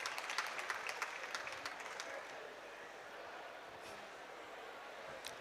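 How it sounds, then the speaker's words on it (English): A crowd at an awards ceremony claps in a burst of applause, dense and steady at first, then thinning slightly, heard from a distance in a large room. "A round of applause for him, please."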